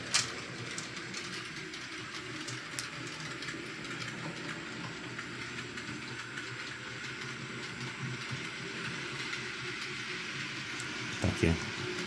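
An H0-scale Piko model train rolls steadily along its layout track, a continuous low rumble and clatter that holds an even level throughout, with a brief louder knock near the end.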